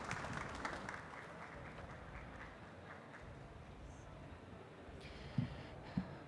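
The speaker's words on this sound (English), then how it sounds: "Please give a big round of applause for our speakers" Audience applause after a talk on control room acoustics, a faint scattered patter of clapping that thins out over a few seconds, with a few louder knocks near the end.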